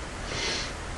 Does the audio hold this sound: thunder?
no